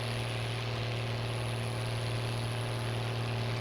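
A Massey Ferguson tractor in Farming Simulator 19 pulls a planter with a steady, droning engine hum. The low, constant tone holds level and unchanging throughout, with no voices.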